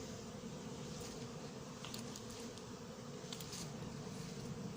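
Faint, continuous buzzing of many bees heard from close by around hives, a soft droning hum with occasional brief louder passes.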